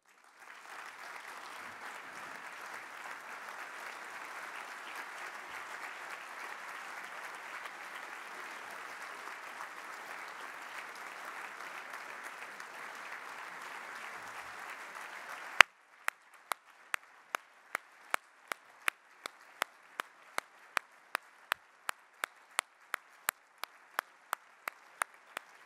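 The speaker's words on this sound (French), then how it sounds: "je voudrais vous faire toutes et tous acclamer par nos militants ce matin, nos ministres réformateurs" At a Walloon political party congress, a large hall of party members bursts into loud, sustained applause for their ministers. It then shifts to slower rhythmic clapping in unison, with sharp evenly spaced claps ringing through the room.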